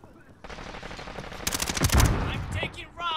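Rapid automatic gunfire rings out in an urban firefight in the Call of Duty video game, a short burst of loud cracking shots that builds and then fades, with voices over it.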